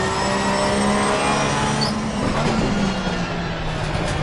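Race car in Assetto Corsa Competizione at Brands Hatch GP, heard from the in-car view, with a loud, sustained engine tone and a steady high whine over a rumbling low drone, with no talk.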